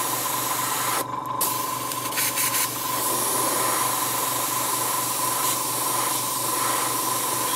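An airbrush sprays paint over a model-making stencil in a steady, close hiss lasting several seconds, with a couple of brief breaks in the airflow.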